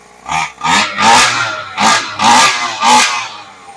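A Primal RC Talbot nitro/gas RC car engine fires up and revs in several loud bursts, each rising and falling in quick succession, close to the microphone with no talk.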